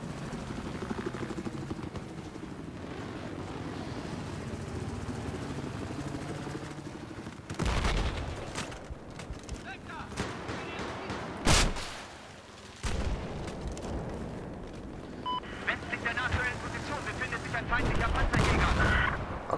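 An enemy helicopter's rotor drone and bursts of gunfire and explosions in Battlefield 4 multiplayer on the Lancang Dam map, loud and close with sudden blasts and rapid fire, while players talk over it.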